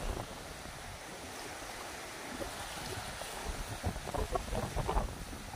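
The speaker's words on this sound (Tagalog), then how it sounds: "Malakas ang agos." A strong river current rushes with a constant broad wash of water noise, with choppier splashing and gurgling bursts building toward the end, recorded outdoors with some wind.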